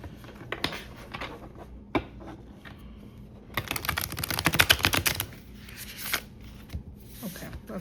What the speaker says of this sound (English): I'm gonna try to shuffle it one more time.